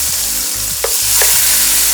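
Fish sizzling loudly in a hot pan just after being flipped, a close steady crackle of frying oil with a couple of soft knocks.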